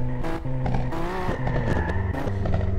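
A racing car engine in the racing video game RaceLeague revs up and down through quick gear shifts, loud and close, with rising and falling pitch; the car is a fairly high-revving one.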